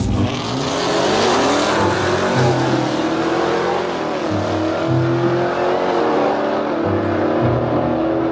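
A 2017 car launches hard down a drag strip, its engine roaring loud and close, climbing steadily through the run with a faint tire squeal.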